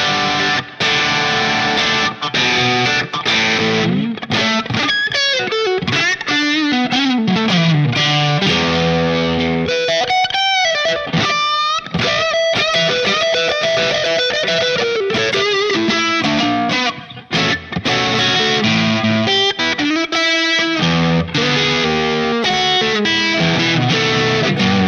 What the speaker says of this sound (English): now let's mess with the tube screamer.